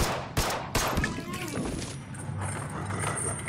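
Gunshots from the video game They Are Billions ring out in a couple of sharp, loud cracks early on, followed by a busier, rattling mix of game sounds.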